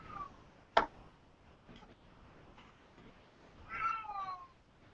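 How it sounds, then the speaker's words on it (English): A loud house cat meowing from a couple of rooms away, one sharp short meow near the start and a longer drawn-out meow near the end, with quiet room noise between. "The cat's in agreement."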